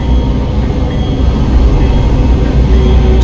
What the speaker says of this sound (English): Let's go ahead and look at this train though